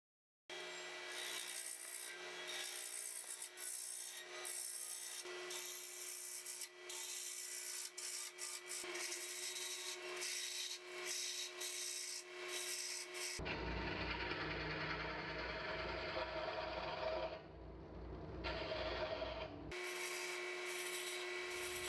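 Wood turning on a lathe as a mesquite pencil blank with brass tubing spins, giving a steady motor hum with scraping and rubbing of the tool against the wood, then a louder, rougher stretch of cutting.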